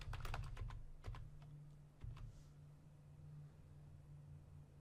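A password is typed on a computer keyboard with a quick run of close, soft keystrokes. A few scattered taps follow, then quiet room hiss.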